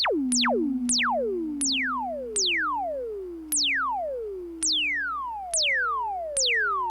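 Memorymoog Plus synthesizer notes repeating roughly every second, each a bright falling sweep whose tone trails off slowly through a lingering release tail, played alone and fairly loud.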